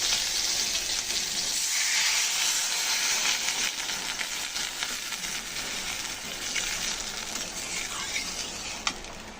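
Hilsa curry in a hot pan with green chillies, sizzling and hissing steadily and loudly after water is poured in, with faint stirring scrapes, no voices.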